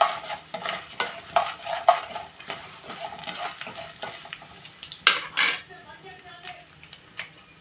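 A metal spoon scrapes and taps repeatedly against a pan in an irregular rhythm, close up, with a faint sizzle underneath, as cooked rice with tempering is stirred for lemon rice.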